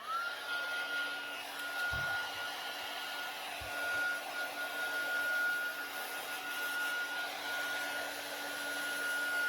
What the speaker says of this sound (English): I'm going to go ahead and use the heat gun because I want to go ahead and dry that stain just a little bit.